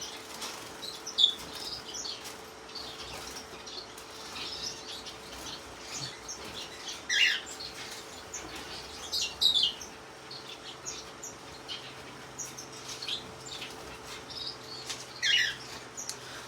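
Bourke's parakeets in an aviary give a few short, faint chirps and brief wing flutters over a steady low hum, with the bursts spaced a few seconds apart.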